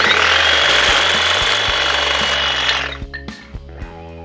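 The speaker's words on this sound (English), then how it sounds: "product number three we're bringing out is the Ego Hedge Trimmer. Battery operated. But I want to show you the power of this particular tool" An Ego battery-powered hedge trimmer cuts through a 7/8-inch wood dowel with a loud, steady buzzing whir. The motor then winds down into a few fading rattles and clicks.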